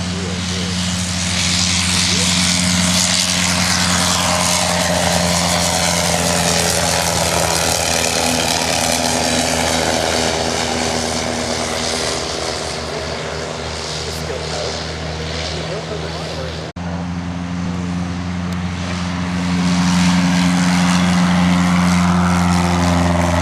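A propeller airplane performs at an airshow, its engine droning steadily and loudly for the whole stretch, with a dip in the middle before the sound swells again, while an announcer talks over the public address.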